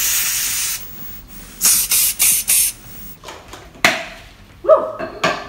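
An aerosol can of disinfectant spray hisses in a series of short bursts: one long spray, then four quick rhythmic puffs, followed by scattered handling knocks and clatter.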